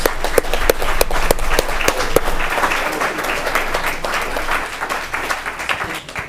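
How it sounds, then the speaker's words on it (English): A city council meeting audience applauds an Eagle Scout, a dense, sustained round of clapping with a few sharp, close claps standing out early before it slowly fades. "Let's give him a round of applause"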